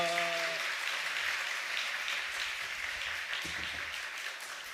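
A church congregation at a New Year prayer gathering applauds to welcome a visiting Salvation Army preacher: dense, sustained clapping filling the room, briefly preceded by a fading musical tone.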